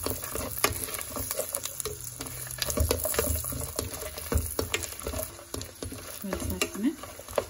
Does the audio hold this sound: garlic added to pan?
yes